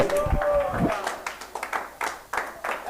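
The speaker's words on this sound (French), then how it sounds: "Est-ce que quelqu'un peut lui donner une acclamation?" A church congregation clapping in acclamation during a French-language sermon, a short burst of scattered handclaps following a moment of voices, fading into sparse individual claps.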